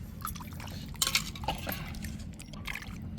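Fish pieces are scrubbed with rock salt and water, with close splashing, dripping and sloshing plus occasional light clinks of salt and bowl, no voices.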